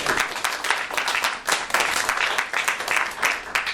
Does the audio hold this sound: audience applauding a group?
yes